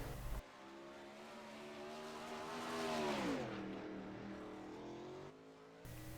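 A 410 winged sprint car roars through turns 3 and 4 on a qualifying lap at Fairbury, its high-pitched engine rising to a loud near pass with a sweeping pitch drop, then fading as the car carries on around the oval.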